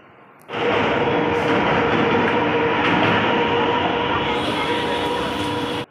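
A train rumbles loudly close by at a station, a steady roar of wheels and engine that starts suddenly and holds throughout.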